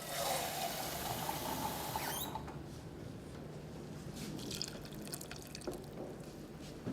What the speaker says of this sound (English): we're going to add about 1/2 can of water,